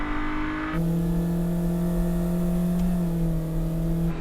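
Nissan Elgrand minivan racing at Tsukuba circuit alongside other three-row minivans: a steady engine drone at sustained revs with a shift in pitch early on, holding close and loud throughout with no talk.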